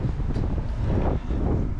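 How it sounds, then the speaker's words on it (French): Outdoor wind buffets a microphone, producing a continuous low rumbling roar that stays loud and steady for the whole short stretch with no talking. "On a un bon petit vent qui risque d'être favorable."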